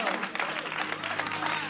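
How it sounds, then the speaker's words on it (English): A church congregation claps in praise during a Sunday worship service, a short burst of hand claps at moderate level with voices mixed in. "Now give God a hand clap of praise."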